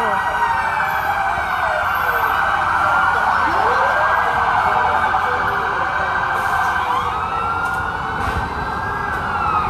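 Fire truck sirens at a building fire in Sampaloc, Manila wail loudly and continuously, their overlapping rising and falling tones sounding close over a low traffic rumble.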